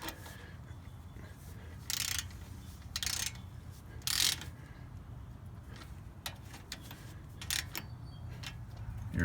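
A hand ratchet tightens 13 mm bolts on the front brakes of a Mercedes-Benz ML320, with short bursts of fast clicking separated by quiet pauses, faint and close with no speech.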